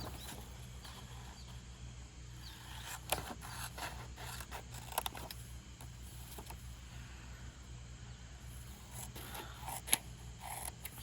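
Scissors trim a paper journaling tag in a craft setting, several quiet close snips and rustling paper scrapes spaced irregularly against a low background hum.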